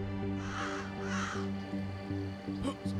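Birds cawing in the video game Dusk: a series of harsh, hoarse crow-like caws repeating in a broken rhythm, fairly close and loud, with a low droning game ambience beneath.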